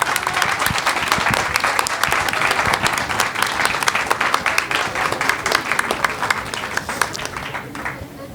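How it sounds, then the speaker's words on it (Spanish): Steady applause from an audience at a book fair in Mexico City's Alameda Central, dense clapping sustained for several seconds with some voices mixed in, tapering slightly at the end. "por favor le pido un gran aplauso por eso"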